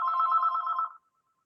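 A telephone rings during a committee meeting, with a single steady electronic trill lasting under a second that then stops cleanly into silence.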